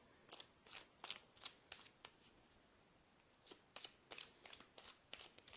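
A tarot card deck is shuffled, giving quick riffling flutters in clustered bursts with short pauses between them, soft and close, with no voices.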